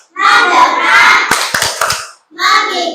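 A fourth-grade class in a classroom chants in unison, and a quick cluster of crisp claps lands midway through the chant as part of a rhythmic focus routine.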